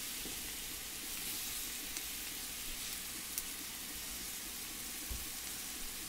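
Lamb sears in a hot pan with a steady, dense sizzle and crackle, faint and even throughout, with a soft thump near the end and no voices.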